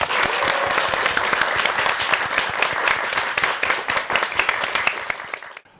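A studio audience on a Korean morning talk show breaks into steady, dense applause welcoming a lecturer to the stage, loud and continuous before cutting off abruptly at the end.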